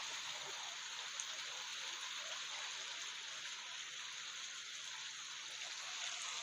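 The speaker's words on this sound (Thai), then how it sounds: "ฝนตกหนักมากเลยตกมาเกือบครึ่งชั่วโมงแล้ว" Heavy rain pours in Thailand in strong wind, a dense, even hiss of falling water that stays steady and fairly loud throughout with no voices.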